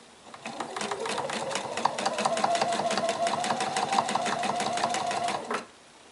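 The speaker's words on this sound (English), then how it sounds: "So I'm just going to backstitch a little bit and sew down to the end." A sewing machine stitches through several layers of a reversible tote bag in one steady run of rapid, even needle strokes lasting about five seconds before stopping, with no talking.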